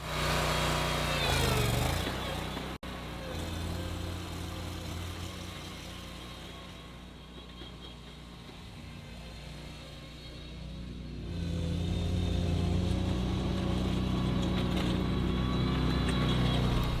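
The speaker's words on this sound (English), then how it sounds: "I keep talking about these mowers in terms of speed when that doesn't even matter, because you're not going to mow at max speed." A lawn mower engine runs steadily at a homesteading expo, holding a constant drone that dips lower midway and then rises again, fairly close and with no talk.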